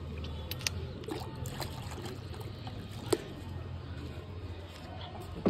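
Warm water pours and trickles into a pigeons' water container, a soft, quiet splashing stream at close range with faint background clatter.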